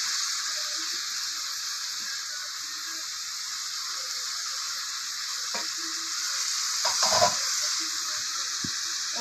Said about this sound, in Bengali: মশলা দিয়ে তেল বেরোচ্ছে এবারে আমি ভেজে রাখা পটল আর আলুগুলোকে দিয়ে দেবো